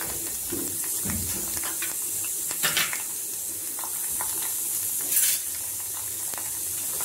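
Onion sautéing in coconut oil with mustard seeds and urad dal for a Nellai-style kootanchoru, a faint continuous sizzle with occasional stirring scrapes and pan knocks, close by.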